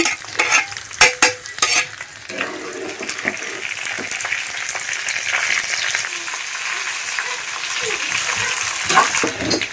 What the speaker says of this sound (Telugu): ఫస్ట్ ఎండుమిర్చి మనం ఫ్రై చేసుకోవాలి